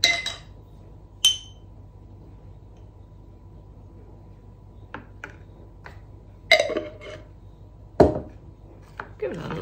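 A teaspoon stirs honey into a jar, giving a few sparse glassy clinks and taps spaced over several seconds against a quiet background.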